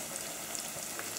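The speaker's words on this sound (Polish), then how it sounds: "będę podsmażała cebulkę do momentu zeszklenia" Onion frying in oil with bacon, a soft, even sizzle with faint scattered crackles, low in level and steady throughout.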